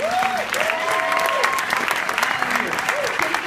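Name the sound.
audience applause at a premiere Q&A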